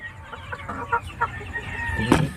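A young rooster, a stag, clucks in short soft bursts close by, with a louder call near the end against a background of farmyard noise.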